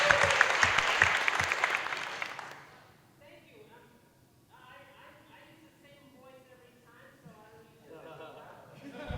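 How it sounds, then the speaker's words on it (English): Audience applause at a fan convention stage event rings out loud and full for a couple of seconds, then stops and gives way to people talking. "Everyone give an applause for Will, please."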